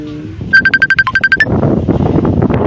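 A phone ringtone, a quick run of bright electronic beeping tones in a short melodic pattern, over a low background rumble that continues after the ringing stops.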